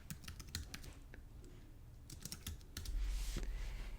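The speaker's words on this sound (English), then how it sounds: "I'm just going to type infusible ink." Rapid keystrokes on a computer keyboard as a short phrase is typed into a search bar, a run of crisp clicks at close range, followed by a steadier background hum near the end.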